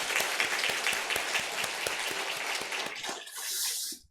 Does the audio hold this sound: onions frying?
no